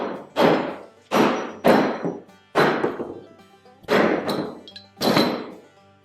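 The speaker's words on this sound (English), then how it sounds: "Sometimes I'll take a hammer." A hammer strikes a wooden farmhouse coffee table top to distress the finish, about six loud, close, hollow knocks, each ringing briefly before the next, spaced unevenly about a second apart.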